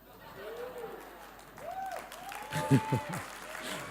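Audience at a Jeunesse product presentation in Malaysia applauds, a steady wash of clapping that swells near the end, with a speaker's voice over the crowd.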